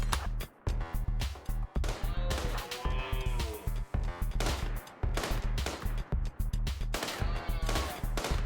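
Bursts of gunfire in the colony game RimWorld, sharp repeated shots in quick clusters separated by brief gaps, with a pulsing low musical drone underneath and a short tonal chime partway through.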